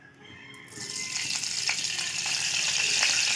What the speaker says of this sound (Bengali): এবার ওই একই কড়াইয়ে আবারও আমি দিয়ে দেব সরিষার তেল।